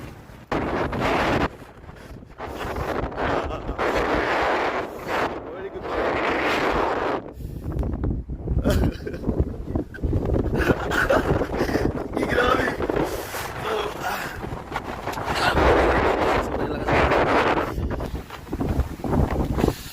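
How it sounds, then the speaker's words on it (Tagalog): Strong wind sweeps across a seaside campsite, roaring steadily and buffeting the microphone in loud, gusty waves with a brief lull midway; a voice is heard faintly through the wind. "Grabe, sobrang hangin."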